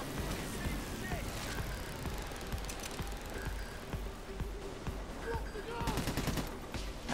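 Rapid gunfire in Payday 2 during a safe heist, with repeated close bursts of automatic shots and a busy background of game noise, continuing through the whole stretch with a denser volley near the end.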